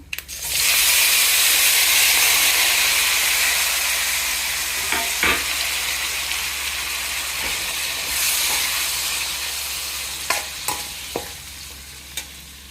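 Tomatoes and curry leaves fry in a pan with a loud, hissing sizzle that swells right after they go in, then gradually eases, with a few sharp clinks and stirring knocks later on.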